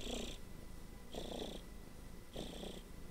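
A domestic cat purring close up, three slow breathing cycles of rough, rumbling purr with a gentle rise and fall and a brief pause between each, recorded alone in a quiet room.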